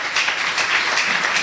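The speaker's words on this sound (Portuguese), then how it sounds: "Aplausos para o Senhor Jesus." A church congregation applauds at a sermon, giving a steady wash of many hands clapping together, dense and even throughout with no voices standing out.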